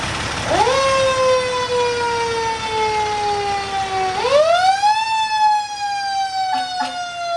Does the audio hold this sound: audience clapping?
no